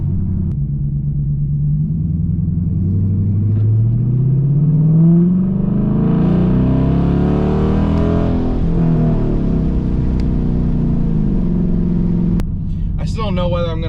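Car with a new 3.90 posi rear end revving through a short test pull at a drag strip, a loud rising engine roar that climbs and falls before a brief burst of speech at the end.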